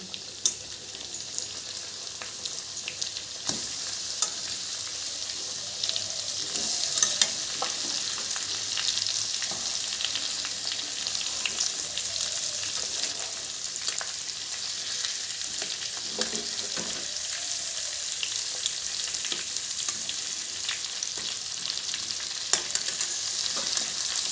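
Chicken leg pieces sizzle steadily in hot oil in a pan, with intermittent scraping and stirring sounds throughout and no talking.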